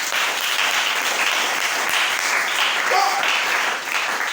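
A church congregation at an evangelical service breaks into sustained, dense applause, loud and steady throughout with no break.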